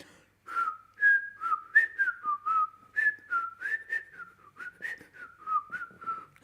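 A person whistles a tune, a clear close melody of short sustained notes and quick slides in a steady phrased rhythm, alone with no talk.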